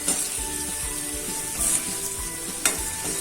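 Potatoes tossed with turmeric sizzle steadily in a hot frying pan for a sambharo, with a spoon scraping and stirring at intervals and occasional soft clinks; close and continuous, with no talking.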